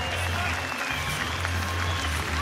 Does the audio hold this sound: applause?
yes